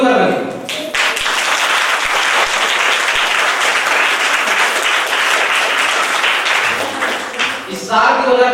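A live audience applauds loudly to welcome a guest on stage at an awards event, steady dense clapping for about seven seconds before fading, with a voice audible at the start and end.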